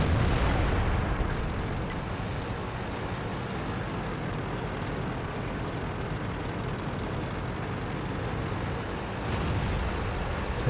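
Tank cannon fire and shell explosions in the World of Tanks video game, played from an STB-1 medium tank: dense, loud booming rumble with a sharp blast at the start and another near the end.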